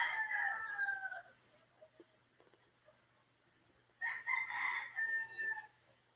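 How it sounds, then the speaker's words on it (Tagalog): Roosters crow twice among chickens in an outdoor setting, each crow a long, loud, drawn-out call separated by a few seconds of quieter background with faint clucks. "Oo, daming manok dito"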